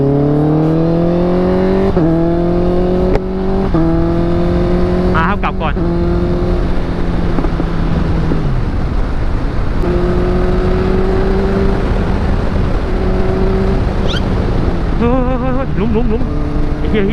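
A Honda CBR650R motorcycle cruises on a casual local ride, its loud, close engine droning steadily, with gear shifts that drop and raise the pitch and a few rising revs.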